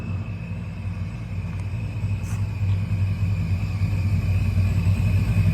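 Boosted small-block Chevy V8 in an S10 pickup truck, a deep steady rumble that builds slightly in loudness, heard at a distance with no talking.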